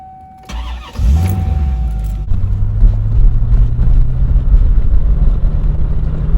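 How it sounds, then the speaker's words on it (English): A 1994 Chevrolet Corvette C4 cranks briefly and its V8 fires, surging up in revs before settling into a loud, deep, steady rumbling idle that fills the rest of the recording at close range, with no one talking. "Oh man, the sound of the C4 Corvette is just awesome."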